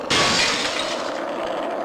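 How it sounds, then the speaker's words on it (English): A crate breaks apart in Tony Hawk's Pro Skater on PS1 with one loud sudden smash of splintering, glassy debris that rings out and slowly fades. "I smashed this box, so I don't have to come up here again."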